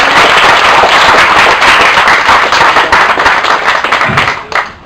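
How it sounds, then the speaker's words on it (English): A loud burst of applause from a wedding crowd, dense and sustained clapping that fills the space before tapering off at the end. "so if you give them another round of applause"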